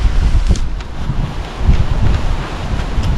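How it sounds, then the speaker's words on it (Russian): Strong gusty wind buffets the microphone outdoors during a long bicycle ride, a continuous low roaring rumble with uneven surges and no speech. "Ветер просто."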